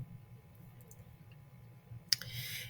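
A single quiet computer mouse click lands near the end, sharp and close, followed by faint clicking against a hushed background.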